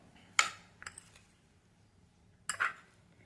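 A metal spoon clinks and scrapes against a bowl while spicy chutney ingredients are stirred together, two short bursts of clatter separated by a quiet pause.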